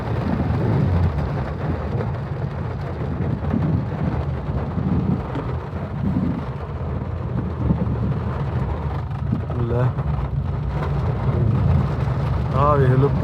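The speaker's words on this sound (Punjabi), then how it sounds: "ਪੂਰਾ ਮੀਂਹ ਪਈ ਜਾਂਦਾ" Heavy rain pours down on an open farm area with wheat fields and a shed, a dense continuous roar of downpour that stays loud throughout, with a brief tonal warble near the end.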